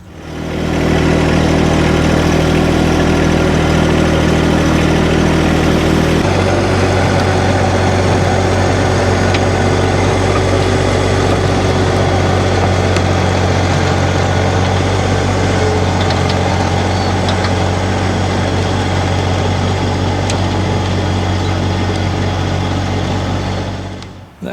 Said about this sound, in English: That was just a light pass with the tiller on the tractor, quite low revs, just to mix it in.